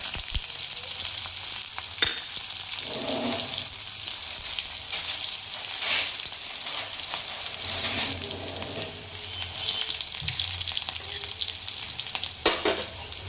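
Slit green chillies and crushed garlic frying in hot oil, a steady close sizzle with occasional crackles and stirring scrapes throughout.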